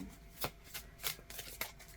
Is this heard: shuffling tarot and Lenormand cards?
yes